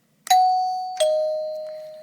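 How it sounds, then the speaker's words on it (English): An electromagnetic front-door doorbell strikes two different metal bells, giving a clear, loud ding-dong: two bright strikes about 0.7 seconds apart, each ringing out and slowly decaying, heard close with no talk. "all you're doing is hitting two different bells to make the ding-dong sound"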